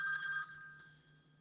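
Telephone ringing during a group video call, a brief faint electronic trill that fades quickly.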